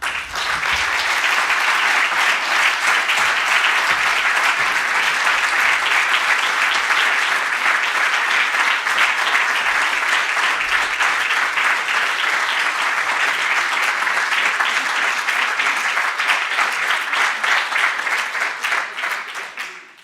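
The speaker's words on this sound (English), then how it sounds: "I think the applause supports it." An audience gives sustained applause, with thick, steady clapping from many hands lasting about twenty seconds at a loud, constant level before tapering off at the very end.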